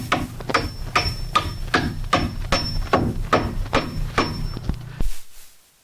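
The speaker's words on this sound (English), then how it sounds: "I'm just going to toenail it into the top plate" Hammer blows drive nails at a slant to toenail a wooden roof rafter into the top plate during roof framing, about a dozen sharp, loud strikes in steady rhythm, then a final knock and quiet.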